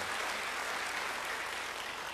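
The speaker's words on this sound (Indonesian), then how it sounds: "Yang percaya beri tepuk tangan yang baik bagi dia" Church congregation applauding in a dense, even wash of many hands, fairly soft and continuous throughout with no voices over it.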